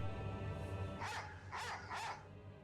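A dog in Resident Evil 4 Remake gives three quick barks in a row, fairly clear over a steady low background hum, with no talking.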